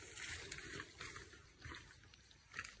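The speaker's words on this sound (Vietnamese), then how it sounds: "Có nghe tiếng suối rồi" Water of a stream in a forest flows in a soft, continuous rush with gentle surges, faint and somewhat distant, with no talking.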